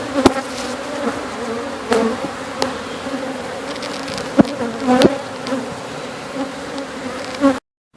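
Honeybees buzzing steadily and close during a hive cut-out inside a building wall, with several sharp knocks and clicks standing out above the hum.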